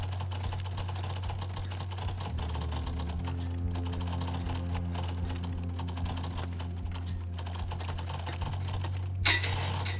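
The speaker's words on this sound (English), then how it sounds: "I hate typing punctuation in typing tests" Fast typing on a computer keyboard during a typing test gives a steady, dense stream of soft key clicks at moderate distance, with brief louder taps now and then and a low hum underneath.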